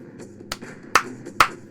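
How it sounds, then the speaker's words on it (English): Three sharp, separate hand claps from one man, spaced about half a second apart, ringing out close and loud over a low steady room hum. "that clap may sound like a thunderstorm where you are"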